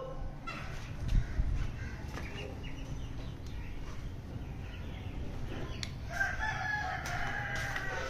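A rooster crows in a domestic yard, a drawn-out call rising out of steady background noise, with a few softer calls and rustling that may be wing flapping; no talk is heard.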